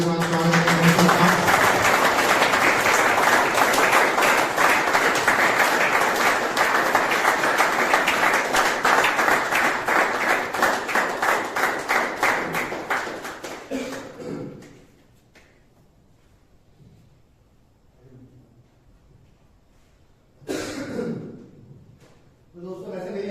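A crowd at an Independence Day celebration in a rehabilitation centre claps loudly in a steady, rhythmic beat for about fourteen seconds, then stops into near silence before a voice speaks.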